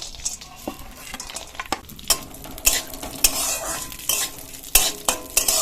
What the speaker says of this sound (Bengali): দিয়ে দেবো কাজু বাদাম কুচি আর আমন্ড বাদাম কুচি। ঘিটা গরম হয়ে গেছে।